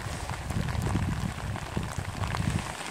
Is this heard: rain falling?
yes